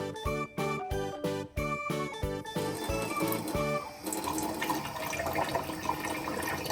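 Dyed bouncy eggs from a kids' science experiment are rinsed under running tap water, a rhythmic series of splashes and gurgles that gives way to a steady, close rush of water, with no talking.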